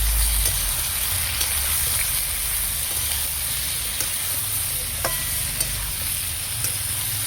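Vegetables seasoned with turmeric and chili powder are stirred in a hot pan, a steady sizzle with scraping strokes of the spoon running throughout, close and fairly loud.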